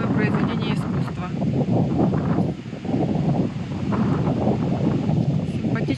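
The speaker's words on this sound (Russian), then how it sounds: "Сегодня очень сильный ветер." Strong wind buffets the microphone outdoors in Wissembourg, Alsace, a steady loud roar with gusty swells and rustling, no voices over it.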